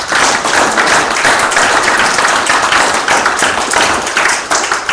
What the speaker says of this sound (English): You give the Lord a hand clap this morning.